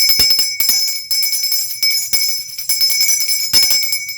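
A handheld puja bell rings in sharp, bright strikes, each clang followed by a shimmering metallic ring that trails off, with bursts of quicker rhythmic ringing and short gaps between them.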